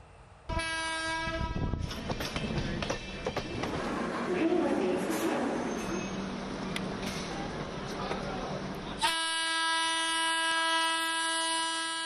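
A train rumbles and clatters through New Delhi railway station, with a long horn blast at the start and another near the end, loud and close.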